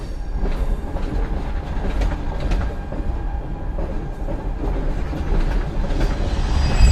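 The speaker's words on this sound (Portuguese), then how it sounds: "Sem aviso prévio, este trem deixa a estação." Migrant freight train, known as the Death Train, pulling out of a Mexican station, a loud steady rumble of wagons with rhythmic wheel clatter that grows slightly toward the end.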